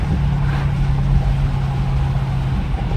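A straight-piped Audi S8 twin-turbo V8 drones steadily with a loud, low, constant exhaust rumble and no distinct pops, heard alone from inside the car.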